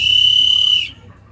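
A totocuí clay whistle with a tuned mouthpiece, imitating birdsong, gives one steady, loud, high-pitched tone held close up for almost a second before it stops abruptly.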